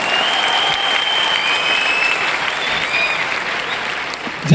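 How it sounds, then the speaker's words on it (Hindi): A large stadium crowd at an award function applauds loudly and continuously, thousands of hands blending into a dense, steady roar of clapping. "तो एक जोरदार तालियां बनती है बाली सर के लिए।"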